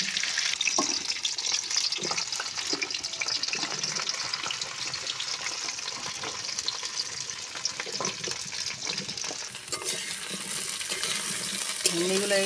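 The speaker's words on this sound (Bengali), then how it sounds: "এই তেলে আমি ভেন্ডিগুলো ভেজে নেব।" Okra frying in hot oil in a pan, a continuous sizzle with occasional stirring scrapes and clinks, close and steady throughout.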